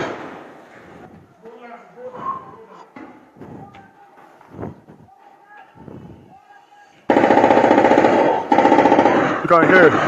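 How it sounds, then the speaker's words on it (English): Gunfire from soldiers of the Nigerian army at a residence, sharp cracks heard faintly under talk early on, then a loud dense burst of rapid shots in the final seconds. "You can hear shots."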